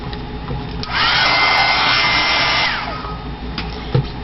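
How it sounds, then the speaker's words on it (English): A heat gun blows steadily for about two seconds while drying a paper card, a loud, continuous airy whoosh with a high whine, starting and stopping abruptly against quiet room background. "I'm going to use my heat gun to speed it up"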